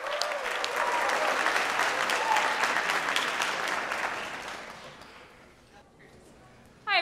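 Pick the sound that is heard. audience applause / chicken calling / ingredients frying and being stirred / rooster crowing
audience applause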